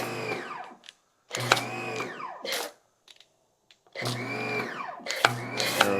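AVA of Norway pressure washer motor starting and running in bursts, loud and close, cutting in and out with brief gaps between runs.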